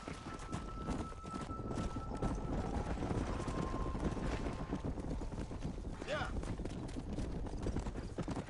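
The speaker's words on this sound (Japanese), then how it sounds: "ただ馬の足音は心地いい ね。" Horse hooves clip-clop at a steady trot in the Western video game Red Dead Redemption on PS5, a continuous rhythmic patter under game ambience while two people talk over it.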